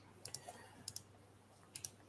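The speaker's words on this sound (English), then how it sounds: "What are you clicking on right now, Mark?" Faint double clicks from a computer mouse come in three quick pairs, spaced out over a quiet room.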